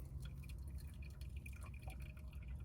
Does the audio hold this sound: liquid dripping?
yes